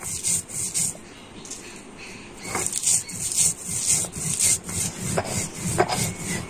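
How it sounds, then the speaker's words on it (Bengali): Roasted spices and dried red chillies are ground by hand on a stone shil, making repeated rough scraping and rubbing strokes in an uneven back-and-forth rhythm, close up. "যেহেতু আমি মশলাগুলো শিলে গুঁড়ো করে নেব"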